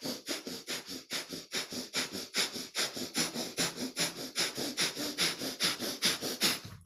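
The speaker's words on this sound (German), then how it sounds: "ich gehe in ein schnelleres Atmen, zum Beispiel auch nur ein angedeutetes Feueratmen" Rapid fire breathing from a yoga technique: quick, forceful, sniff-like breaths through the nose in a steady rhythm of roughly three per second, close and continuous, with no talking.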